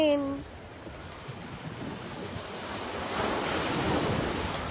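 Night wind off the sea on a sandy Boracay beach blows steadily against the microphone, mixed with rolling surf, swelling louder toward the end; a voice is briefly heard at the start.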